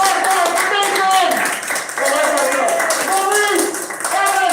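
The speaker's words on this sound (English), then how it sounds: "give us all a round of applause at the same time" Audience applause at a live improv comedy show on a New York stage, steady clapping and cheering filling the room while voices shout and talk loudly over it.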